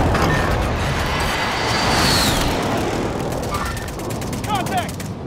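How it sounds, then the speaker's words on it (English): Dense gunfire from Call of Duty: Modern Warfare, a loud continuous wash of shots and battle noise with shouted voices over it that eases slightly toward the end. "I'm taking fire!"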